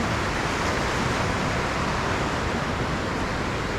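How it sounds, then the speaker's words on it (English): Water rushes steadily near a small eatery along the Tour du Mont Blanc trail, a continuous dense hiss and roar with no breaks or voices, close and even in level. "Tonight we hear water."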